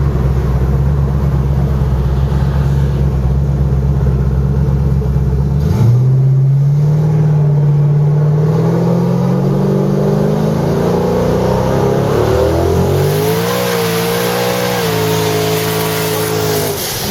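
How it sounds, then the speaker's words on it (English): A 1500 HP 5th gen Camaro street car doing a tire burnout, its loud engine roaring steadily with rising revs and a rumbling drone close by throughout. "it just will not stop burning the tires"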